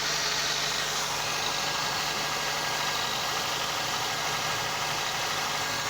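A Toyota 3S-FE engine idles steadily with its air intake and filter assembly removed, a constant mechanical hum and a faint airy whistle running through it, with no voices.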